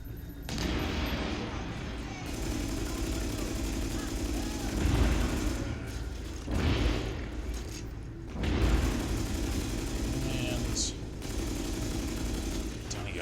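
Grenade blasts and gunfire from The Division combat, heard as a steady dense rumble with several heavier booms spread through, with someone talking over the action.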